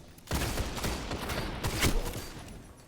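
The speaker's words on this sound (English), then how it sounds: "the firing of a weapon provides a different sort of texture of rumble" Rapid bursts of weapon fire from a video game in a gamespace soundwalk demo, a dense rumbling clatter that starts abruptly and keeps going for almost three seconds, with a brief surge near the end.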